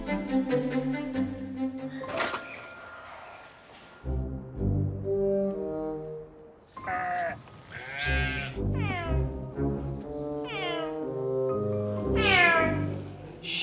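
Cody, a Tonkinese cat with a mouthful of rotten teeth, lets out a series of loud, drawn-out, unhappy meows, several rising and falling wails in close succession, near and clear.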